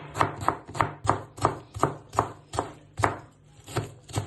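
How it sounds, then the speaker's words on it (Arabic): Knife chopping onion on a cutting board while cooking lentil soup, about eleven sharp, evenly spaced chops with a steady rhythm, close and clear, with a low kitchen hum beneath. "راح نفرم بصل."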